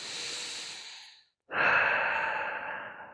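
Slow, deep yoga breaths during a stretch for sore leg muscles: a long airy exhale fades out, a brief pause follows, then a full, louder breath rushes in and holds steady, close and alone without talk.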